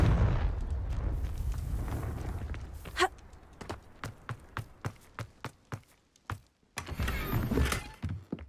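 Repeated Confringo blasting-spell explosions in Hogwarts Legacy, a series of sharp, punchy bursts at a steady rhythm, closing with a louder rumbling blast, no talking.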